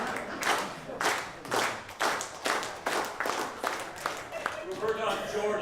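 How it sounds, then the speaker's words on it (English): An audience at a certificate recognition ceremony claps slowly in unison, about nine evenly spaced, resonant claps in a room, with voices talking alongside. "Let's slow clap."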